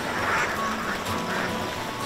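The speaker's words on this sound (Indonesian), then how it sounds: "Kawanan bebek ini memaksaku untuk berolahraga pagi." A flock of ducks being chased along a rice paddy embankment, several agitated quacks in quick bursts over rustling outdoor background noise.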